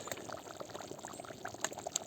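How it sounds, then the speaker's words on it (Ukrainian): Mushroom soup boils in a pot, with steady close bubbling and popping across a brief stretch. "Як булькотить, а пахне."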